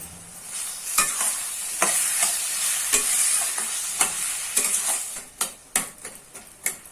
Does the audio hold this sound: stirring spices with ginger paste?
yes